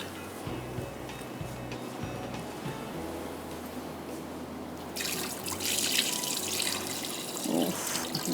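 Water poured off a pot of cooking rice for mutton mandi, a quiet kitchen hum giving way to a sudden steady splashing rush that continues to the end.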